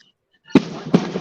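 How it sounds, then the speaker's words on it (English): Big fireworks going off outdoors at night, two sharp booms about half a second apart after near silence, each followed by a crackling, rumbling tail. "these are some big fireworks going off now"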